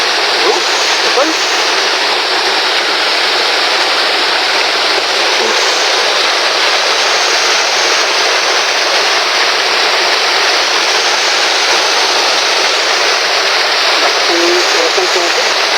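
Water gushing from a pipe broken by a typhoon, a loud, steady broadband rush that stays constant and close throughout with no pauses.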